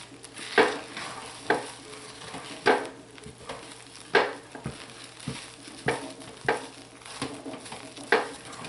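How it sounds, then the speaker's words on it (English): Turmeric and paprika soap stirred in a crockpot, a spoon scraping and sloshing in soft repeated strokes about once a second over a low steady background hiss. "I'm going to go ahead and give them a quick stir"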